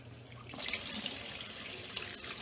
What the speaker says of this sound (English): I usually just rinse that out just with a little more cold water.